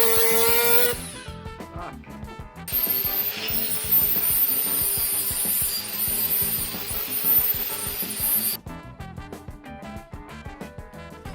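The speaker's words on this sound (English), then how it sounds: "let's take a grinder to it, see what we reveal" An angle grinder works over the rusted sissy bar on a Land Cruiser 60, a steady high whine with gritty, pulsing scraping that starts and stops, close and loud with no voices.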